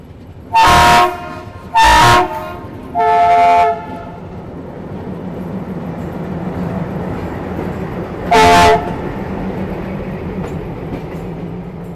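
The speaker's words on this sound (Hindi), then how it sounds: "WDG3A फिलहाल शंटिंग करता हुआ।" An Indian Railways WDG3A diesel locomotive shunting gives four loud horn blasts, three close together at the start and one more after a pause, over a steady engine rumble with no talk.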